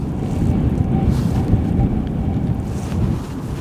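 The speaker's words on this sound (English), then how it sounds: "I think it was gusts of about 50 miles per hour" Strong storm wind buffets the open air at an airport during Storm Amy in Aberdeen, a continuous loud roar with broad rushing gusts and no voices.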